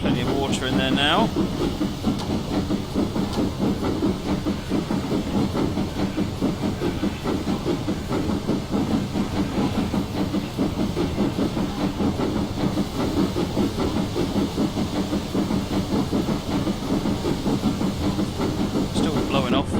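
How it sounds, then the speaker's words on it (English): A GWR Castle steam locomotive on the West Highland Line South in Train Simulator 2016 keeps its safety valve blowing off, a steady loud hiss over rhythmic chuffing and rail clatter, continuous throughout with talking over it. "Still blowing off, but that's fine."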